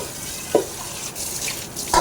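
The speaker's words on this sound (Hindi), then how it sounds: "ये बर्तन साफ़ कर रही है" Tap water runs into a kitchen sink while dishes are washed at home, a steady splashing hiss broken by a few brief clinks and knocks, close by, with no talk.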